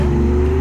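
A car engine revs loudly on a Berlin street, a strong steady mechanical drone with a sustained whine held at close range for the whole moment.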